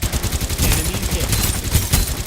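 Rapid gunfire from a shooting video game rattles in quick dense bursts, loud and continuous, with a player's voice faintly underneath.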